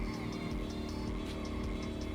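A Cosworth engine in the racing game Drifto holds a constant drone at steady revs, a buzzing, evenly loud hum with faint rhythmic pulses and no voices.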